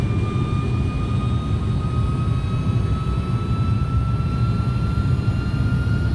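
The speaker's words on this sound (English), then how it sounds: "the aircraft's fully established, coming down now through 1600 feet" An IniBuilds A300-600 airliner descending on approach in X-Plane 11 gives a loud, steady jet engine roar with a low rumble and a thin, high tonal whine held constant throughout, with no voices.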